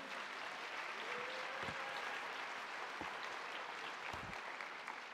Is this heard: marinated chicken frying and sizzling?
no